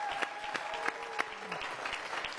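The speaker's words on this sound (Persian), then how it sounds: "تشویق" A studio audience on the Iranian comedy TV show Khandevaneh bursts into steady, dense applause, with sharp individual claps standing out across the full stretch.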